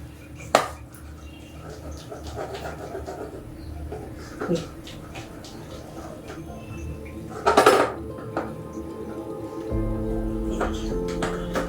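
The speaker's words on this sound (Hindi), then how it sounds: "ये दाल तब तक हम और फेंटते हैं" Soaked mung dal batter whipped by hand in a bowl, one direction, to work air in, with a kadhai heating nearby: steady soft stirring and scraping under occasional louder knocks and clatters of utensils, with a steady hum.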